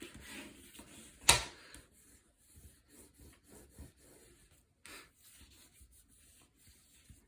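Paper is pressed and rubbed flat onto a mini album page with soft, faint brushing and scuffing strokes, opened by one sharp crinkle and then a string of light intermittent rubs.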